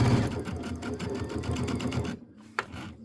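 A sewing machine stitches a Christmas wall quilt in a rapid, steady run of needle strokes, close and clear, then stops abruptly with a brief mechanical click after.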